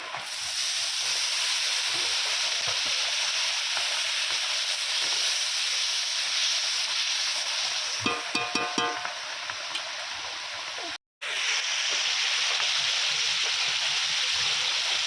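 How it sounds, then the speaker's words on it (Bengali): Spice paste for a snakehead fish curry sizzles and fries in oil with a steady, continuous hiss, broken by a few brief clinks of stirring near the middle and a momentary gap. "সব কিছু ভালো করে আবারও কষিয়ে নেবো মশলাটা যাতে না পুড়ে যায়"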